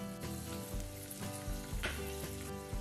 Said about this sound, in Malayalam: ചൂടാക്കിയ നെയ്യിലേക്ക് അല്പം കാഷ്യൂനട്ട് ആദ്യം ഇടുക.